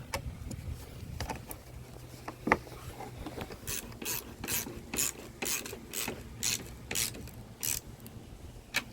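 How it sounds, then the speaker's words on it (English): Ratchet wrench tightening a cap screw and nut on a Bocashade mounting bracket bolted to a boat hardtop, with a series of about ten sharp, evenly spaced ratcheting bursts, fairly close and clear with no talking. "you go ahead and tighten the cap screw and the nut"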